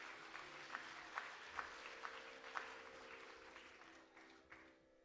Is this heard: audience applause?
yes